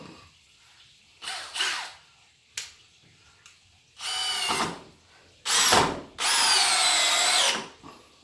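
A DeWalt Xtreme 12V cordless drill motor in drill mode spins in short bursts and then a longer sustained whir, loud and close, with quiet pauses between runs.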